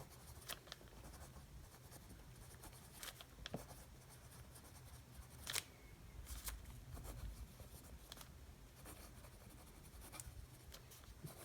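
A Monteverde fountain pen scratches softly across thin Tomoe River paper in quiet bursts of strokes and squiggles, faint and close, with small taps and scrapes between words and no talking.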